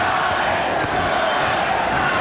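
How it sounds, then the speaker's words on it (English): Dense crowd noise fills an arena during a 1989 boxing bout between Julio Cesar Chavez and Sammy Fuentes, a steady roar of many voices with a rhythmic chanting quality sustained throughout. "Crowd starting to chant Chavez, Chavez."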